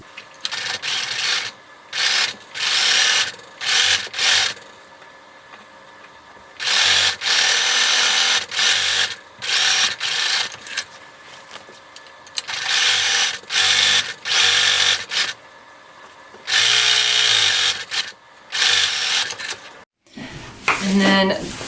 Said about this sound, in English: when you sew these seams, you start at the top here and you come down